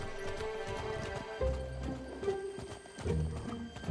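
Horse hooves clip-clop in a steady rhythm through a peaceful farming town in the Fable video game, up close over soft music and ambience, with a few heavier steps.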